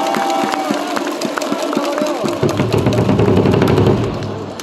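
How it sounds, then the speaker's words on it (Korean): Baseball stadium crowd cheers and claps for a returning player, starting with scattered claps and shouts, then swelling into a louder, denser roar of cheering in the second half. "우리 하재호 선수에게 이번에 박수 부탁드리겠습니다"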